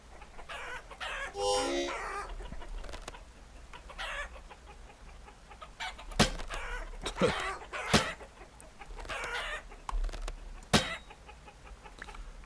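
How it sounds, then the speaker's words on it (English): Two roosters cluck and squabble while fighting in a chicken coop in the video game Vintage Story, with scattered clucks, squawks and sharp pecking hits at moderate distance and no talk. "Oh, we got 2 roosters now, it looks like. I don't need 2 roosters. Oh, they're fighting each other."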